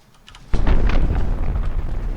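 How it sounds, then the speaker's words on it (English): A full torpedo volley strikes a long, narrow warship in a 1915-era naval video game, opening with a quiet lead-in before a sudden loud blast at about half a second that rolls on as a sustained, booming rumble. "The full torpedo volley from Muse Craft."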